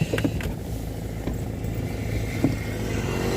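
Mobylette moped riding past on a street, a moderate engine buzz with a few sharp clatters, heard alone at a middle distance.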